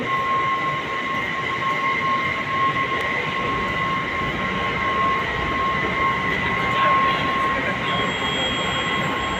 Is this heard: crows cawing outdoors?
no